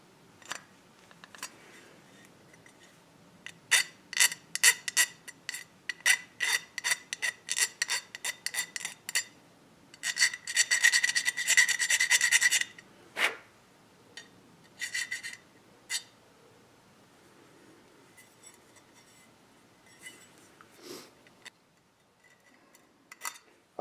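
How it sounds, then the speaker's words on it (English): Hand filing of metal burrs on the edge of a homemade backwoods French press, heard as a run of short, close, dry rasping strokes with a longer steady scraping burst midway and sparser strokes at the end. "Alright, so I have a file here. See if I can't remove these burrs."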